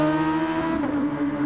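A Super Formula race car in GT Sport accelerates through the Forest Elbow at Bathurst, its engine a loud, close, sustained high-revving drone whose pitch dips slightly as it shifts.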